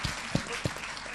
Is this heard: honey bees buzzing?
no